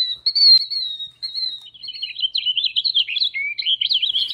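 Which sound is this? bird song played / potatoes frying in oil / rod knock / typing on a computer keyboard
bird song played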